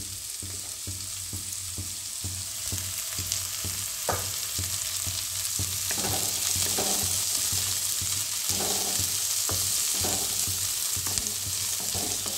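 Onions fry in oil, sizzling steadily in a pan, with occasional stirring scrapes and clinks over the constant crackling hiss.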